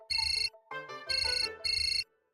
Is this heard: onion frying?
no